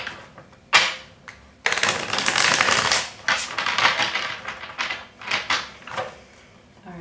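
A deck of tarot cards is shuffled in several rapid riffling bursts, crisp papery flutters separated by short pauses, close and loud.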